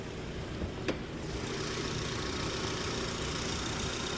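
A 2014 Honda Civic Si with a K24 engine and aftermarket intake idles steadily, an even mid-pitched hum with a single brief click near the start, no talking.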